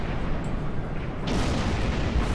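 Explosion in the Star Trek Online space game: a loud, dense rumbling blast that swells partway through and stays broad and heavy to the end, with no voices.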